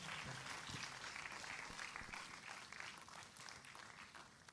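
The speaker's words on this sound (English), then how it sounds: "Let's welcome her with energetic round of applause" An audience at the SmartIDEAthon 2024 event gives a sustained round of applause to welcome the chief guest, a full, even clatter of many hands that fades slightly toward the end.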